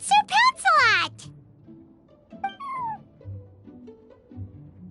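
A cat called Sir Pouncelot in the video game Genshin Impact meows loudly and close by: a quick run of bright cries, then a softer, longer meow a moment later, over a quiet low background.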